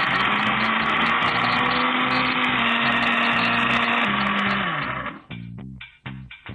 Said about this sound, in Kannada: ಒಂದ್ಸಲಿ ಸ್ವಲ್ಪ ಮಿಕ್ಸಿ ಆಗ್ಬೇಕು.